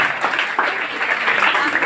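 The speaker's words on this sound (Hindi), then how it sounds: "इनके लिए एक बार जोरदार ताली होनी चाहिए" Schoolchildren applaud a pupil in a classroom, a brief burst of dense, close clapping from many hands.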